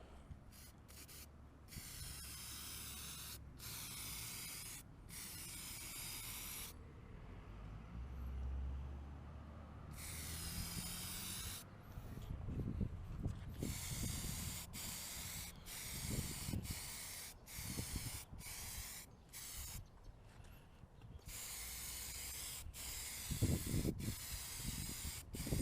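Spray paint hisses from an aerosol can onto a spare Honda K24 valve cover in long bursts separated by pauses, with short sharp sprays near the end and a faint low rumble beneath.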